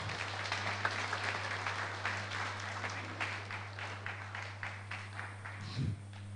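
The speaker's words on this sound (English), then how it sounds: "Let's give him a round of applause." A conference audience gives a steady round of applause, moderately distant and even, with a constant low hum from the room's sound system underneath.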